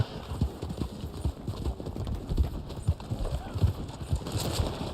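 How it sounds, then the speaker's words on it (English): Horse hooves clip-clop steadily in the video game Red Dead Online, a continuous rhythmic trot of moderate loudness with game ambience underneath and no talk over it. "Why is my horse slowing down constantly here?"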